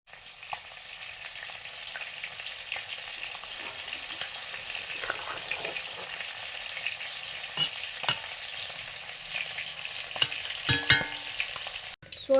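Fish curry frying steadily in a pan, a continuous hiss and sizzle with occasional small pops and a clink of a utensil near the end, no talking.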